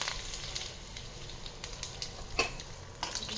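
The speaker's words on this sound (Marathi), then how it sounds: "आणि मस्तपैकी कढीपत्त्याची फोडणी द्यायची" Curry leaves and dried red chillies crackle and sizzle in hot oil, a steady spitting hiss punctuated by a few sharper pops close by.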